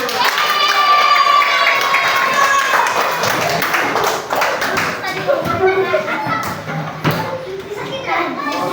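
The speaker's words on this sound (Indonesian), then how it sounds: "Oke, tepuk tangan untuk kalian semua." Children in a classroom clap their hands amid lively chatter and excited voices, the claps mixed under constant children's talk and a teacher's voice.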